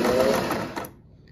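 A 1950s Singer 403A sewing machine stitches a zigzag pattern in a short, close burst that slows and stops within a second.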